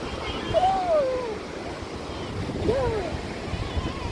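A steady wash of sea waves rolls onto Calicut beach with wind rumble, while faint whistling bird-like calls rise briefly twice over the surf.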